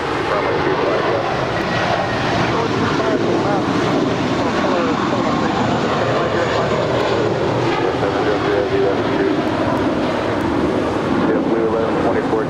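Airliners at Los Angeles LAX airport, a steady broadband jet engine roar and rumble throughout with wind noise, while faint radio voices run underneath.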